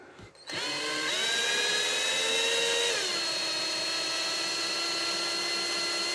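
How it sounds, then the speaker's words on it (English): A cordless drill spins up with a rising whine, holds a steady high pitch, then drops lower under load while driving long screws into an RC monster truck, close and alone. "Maybe I can get away with using my drill on this project."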